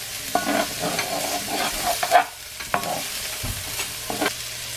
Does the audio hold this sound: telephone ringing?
no